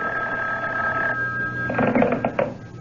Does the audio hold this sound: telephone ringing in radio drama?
yes